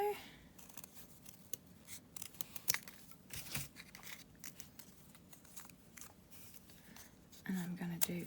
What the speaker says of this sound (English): I'm going to get my next pink piece, cut it down